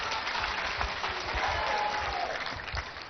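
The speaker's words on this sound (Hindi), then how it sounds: "आपकी तालियां बता रही हैं कि आप कितने उत्साहित हैं" An audience breaks into sustained applause at a Swami Ramdev gathering, a dense, even wash of many hands clapping throughout with little variation in loudness.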